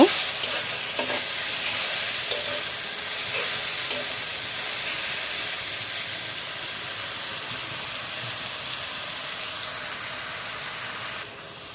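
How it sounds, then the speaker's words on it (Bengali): Spices sizzle and hiss continuously in a hot pan, with occasional scraping stir strokes, up close and steady until the sound cuts off near the end. "তো মশলাগুলো একটু কষিয়ে নেব"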